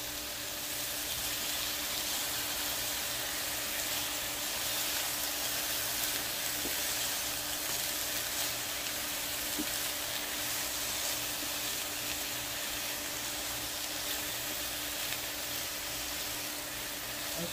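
Shrimp, sausage and mixed vegetables cook down together in a pan, giving a steady, even sizzle and frying hiss that runs unbroken and moderately quiet throughout, with no talking.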